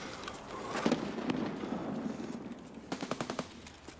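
Gunfire crackles in the shooter Escape From Tarkov: scattered distant shots, then a quick rapid burst of automatic fire near the end, sounding moderately far off under low background ambience.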